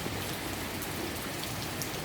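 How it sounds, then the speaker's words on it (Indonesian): Heavy rain pours down steadily on a hot day, a dense even hiss of drops striking surfaces close by, constant in level throughout with no voices. "dengan turunnya hujan ini"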